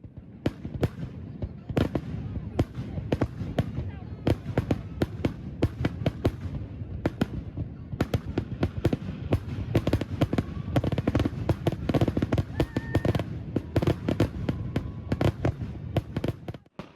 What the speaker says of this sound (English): Ace Pyro started the show at 10 o'clock with the fireworks being launched from a barge on the lake.